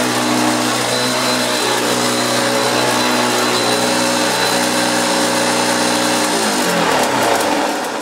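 Refurbished orange Hoover Junior 1346a upright vacuum cleaner running steadily with a loud, constant motor drone and hum, the pitch shifting near the end as suction changes, with no talking.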